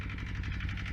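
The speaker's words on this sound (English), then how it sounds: "we got the tractor over there warming up" A tractor engine idles steadily while warming up on a farm, a continuous low, even rumble with a faint pulsing beat, close by and with no talk.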